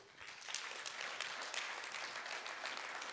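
An audience applauds at an indoor gathering, the clapping dense and continuous but faint and distant, lasting a few seconds without any voices over it.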